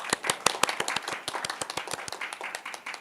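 A small audience claps at a hackathon demo day in Tokyo. The claps are distinct and fairly sparse, a steady patter of individual hand claps that gradually thins out.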